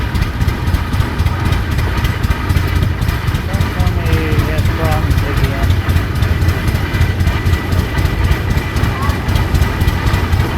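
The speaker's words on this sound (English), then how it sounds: "The steel wheel gas tractor, manufactured by the Advanced Rumley Threshing Company Incorporated of LaPorte," A steel-wheeled Advance-Rumley gas tractor from LaPorte, Indiana, runs steadily at a thresherman's show parade, its engine a continuous low rumble that stays loud and even throughout, with faint crowd voices mixed in.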